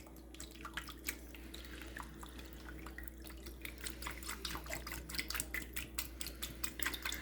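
Water trickling and dripping into a pot roast being prepared with tomato juice and garlic powder, a faint irregular patter of splashes that grows denser toward the end over a low kitchen hum.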